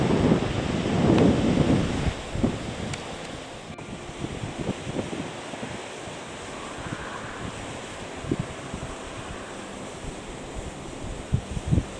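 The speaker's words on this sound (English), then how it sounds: "it's awfully windy" Strong, blustery wind buffets the microphone on an exposed Scottish coast, with surf rushing underneath as a constant loud roar and sporadic gusty thumps, and no one speaking.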